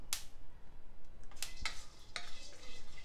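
Sunflower, melon and pumpkin seeds are stirred as they roast in a pan, with a few soft scraping strokes and faint light clinks over a steady low background, no talking.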